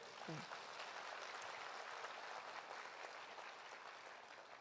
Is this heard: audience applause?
yes